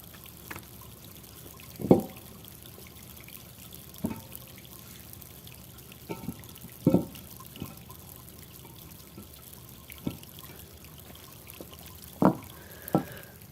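Water seeping through gaps between paving slabs on a ventilated terrace and dropping into the drain below, heard as scattered soft drips and splashes spaced a second or two apart over a quiet background.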